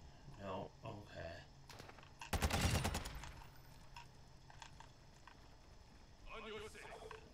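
A short burst of gunfire rings out in a first-person shooter game, a loud rapid volley in the middle with scattered fainter shots around it and game sounds in between.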